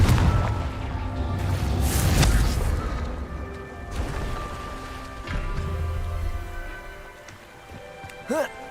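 Confringo blast spells fired in Hogwarts Legacy, a string of booming explosive bursts and crashing impacts over several seconds, some heavy and close, with crackling debris between blasts.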